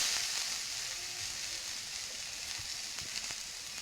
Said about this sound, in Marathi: आता आपण कढईमध्ये बारीक चिरलेला कांदा घालून तो चांगला भाजून घेऊयात.